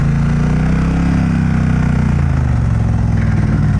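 A 2017 Triumph Bonneville Bobber engine running close by, a loud steady throb with a drop in pitch partway through as the gear changes, continuous with no talking.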